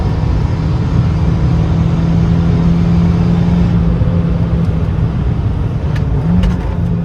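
A Stage 1 Fiat 500 Abarth accelerates hard, its engine a loud, steady droning roar from inside the car, with a brief shift in pitch near the end as a gear change jolts through.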